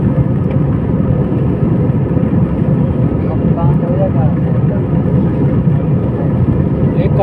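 An airliner takes off from an airport in Saudi Arabia, its engines making a loud, steady roar heard from inside the cabin, with a voice talking over the constant drone.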